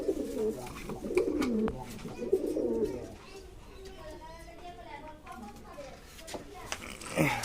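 Aparajita pigeons coo in a breeding loft, their low rolling calls repeating near and clear through the first few seconds, then softer cooing and chatter from other birds continue beneath a voice heard in the background.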